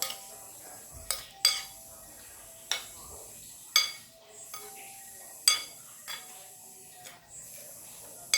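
A chicken barbecue marinade with garlic and lemongrass is mixed in a bowl, with soft spoon and bowl clinks recurring in an irregular rhythm, close and fairly quiet.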